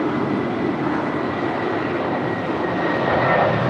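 An airliner taking off from runway 25 right at LAX, a steady, broad roar of jet engines that holds constant and swells slightly toward the end, with no voices.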